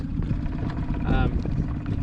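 A boat engine drones low and steady offshore in rough conditions, mixed with wind buffeting the microphone and a brief voice over the rumble.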